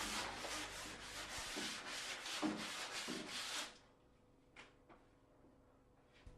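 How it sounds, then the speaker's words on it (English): The planed edge of a wooden door being sanded by hand with medium-grade glass paper, quick rhythmic back-and-forth scrapes for a few seconds, then quiet with a few light taps. "Now rub the planed edge down with a medium-grade glass paper."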